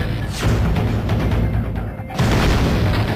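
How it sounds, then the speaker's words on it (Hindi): Explosions rumble as loud, continuous heavy booms, dense and low, with a brief lull before another powerful blast rolls in. "धमाके, धमाके और फिर धमाके"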